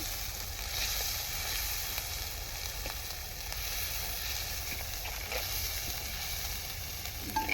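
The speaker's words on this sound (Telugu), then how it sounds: "మసాలా మొత్తం ఇలా వేసి కలుపుకోవాలండి." Masala is tipped into a pan of gongura fish curry and mixed in, giving a continuous, even sizzle with faint stirring scrapes, close and steady with no talk.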